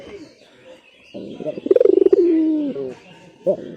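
Pigeons coo from an opened pigeon coop, with one close, throaty, rolling coo that rises and trails off, plus a few softer calls before and after against a quiet background.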